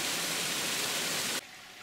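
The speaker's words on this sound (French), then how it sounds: "Agréable spectacle que cette traversée d'un petit ruisseau." A small stream runs across a trail race course in a hilly massif, giving a steady, close rushing wash of water that cuts off abruptly near the end.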